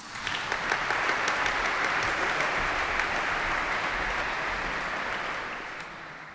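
Sustained applause from an event audience at a Four Freedoms Awards ceremony honoring the chair of the Roosevelt Foundation, a dense, steady clapping that holds for several seconds before tapering off at the end.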